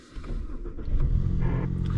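A Toyota Tacoma truck's engine cranks and catches inside a garage, rising into a steady close idle rumble that builds in loudness over the two seconds.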